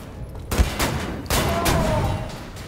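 Gunfire in Wolfenstein: The New Order, several close, loud shots and short bursts in quick succession with a ringing tail between them.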